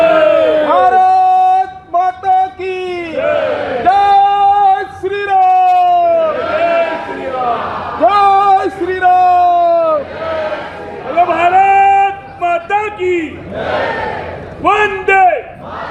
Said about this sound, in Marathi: भाजप आणि मित्र पक्षांच्या कार्यकर्त्यांनी मोठा जल्लोष साजरा